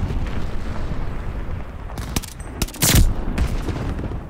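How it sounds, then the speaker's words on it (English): Glide bomb blasts in a war video game, a burst of sharp booms and crackling impacts hitting late after a stretch of rumbling gunfire, loud and close. "Friendly sending a glide bomb."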